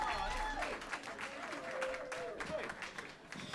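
Applause and cheering from a comedy show audience greet a comedian arriving on stage, a steady dense wash of clapping that fills the room, with a voice and crowd noise mixed in.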